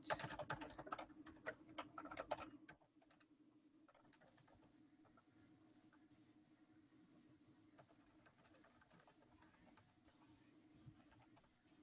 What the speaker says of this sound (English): sorry, I was just typing.